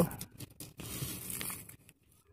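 Sun-dried onions are crushed on a stone grinding slab, giving close, dry, crackling scrapes in uneven bursts with short pauses between strokes.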